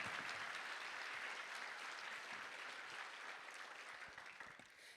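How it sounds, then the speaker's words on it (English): Audience applause at the 2025 WEAR fashion show at UW-Stout, honoring designer Bex Sermon: dense, steady clapping from a large crowd, loud throughout and tapering off at the end. "Let's give another round of applause for Bex Sermon"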